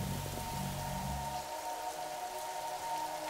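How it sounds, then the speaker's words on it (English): Rain falls steadily outside as a soft, even hiss of drops on surfaces, with a low hum underneath and no voices. "Oh, it's raining out."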